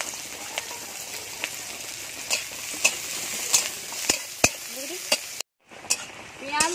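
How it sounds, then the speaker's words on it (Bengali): Chopped onion and garlic fry in mustard oil in a kadai with a steady, bright sizzle, punctuated by repeated clicks of stirring and a brief drop to near silence before the frying resumes. "এবার কড়াই দিয়ে দেবো সরষের তেল, পেঁয়াজ কুচি,"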